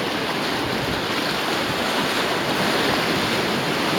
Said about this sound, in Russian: Видно, что море волнуется раз, блин.